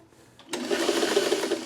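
Sewing machine starting up after a short pause and stitching fabric steadily at regular speed, a close, continuous whirring hum with a rapid needle rhythm, heard alone.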